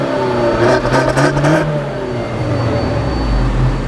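A 2014 Fiat 500L's 160-horsepower engine, paired with a twin-clutch six-speed automatic, rises in pitch as the car accelerates, then settles into a lower, steady hum with road noise, loud and close.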